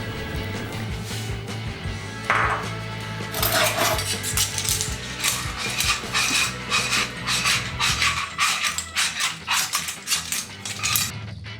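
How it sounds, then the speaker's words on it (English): Clams in their shells go into a cooking pan for spaghetti alle vongole, a busy clatter of shells knocking against the metal pan and each other over a constant sizzle, close and fairly loud. "At the end, add all the clams, also with the shells."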